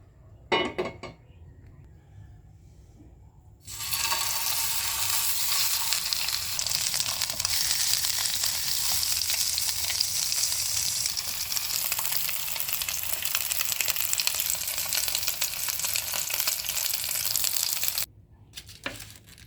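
Chicken embutido fries in hot olive oil with a loud, steady sizzle that begins suddenly and runs without a break for about fourteen seconds. It cuts off near the end, and brief utensil clatter comes before it.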